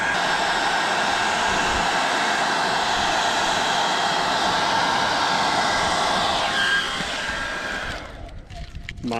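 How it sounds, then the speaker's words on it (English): A hair dryer blows steadily on a car's number plate area on a HGT Raptor Ranger build, a continuous close whirring hiss that drops away near the end as it is switched off. "Decky has got the hairdryer and a little bit of heat down there"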